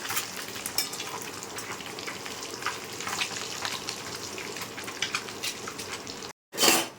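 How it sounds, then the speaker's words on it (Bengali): Eggs fry in hot oil seasoned with salt and turmeric, a dense, steady crackle and sizzle with sharp pops spread throughout, briefly cut to silence near the end before the sizzle returns loudly. "ডিমগুলোকে উল্টে দিচ্ছি"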